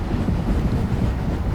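A long freight train rolls along the New Jersey North Coast commuter line on a windy day, a steady low rumble with wind buffeting the microphone throughout.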